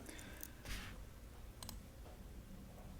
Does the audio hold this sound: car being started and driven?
no